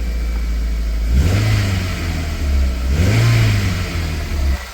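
A Toyota MR2 engine idles loudly, then revs up twice in smooth swells before settling back, close by with no voices.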